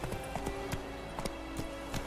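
Hooves of a horse in The Witcher 3 clip-clop in a quick galloping rhythm, fairly close and steady over a low game-world hum, with no talking over them.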